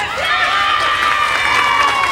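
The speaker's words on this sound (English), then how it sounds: "So a sympathetic cheer there for George." A large crowd at a 1988 Britain's Strongest Man contest gives a sustained, even cheer and applause, a dense wash of voices holding steady from start to finish with no single speaker standing out.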